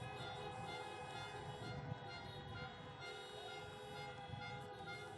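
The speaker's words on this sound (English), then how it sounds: "Honk your horn if you want to have civility again" Car horns blare together at a drive-in presidential campaign rally in Falcon Heights, Minnesota, a dense, continuous wall of honking from many vehicles with no break, loud and unaccompanied by voices.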